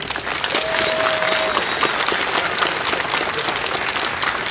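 Audience at a cosplay contest during a fantasy convention in Gliwice applauding steadily, a dense wash of clapping that holds evenly for several seconds.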